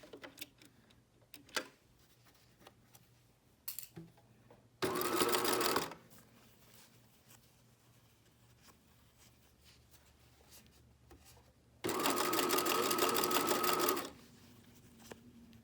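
A sewing machine stitches the neckline of a Banksia bralette in two loud, steady, whirring runs, each a second or two long, with quiet handling noises between.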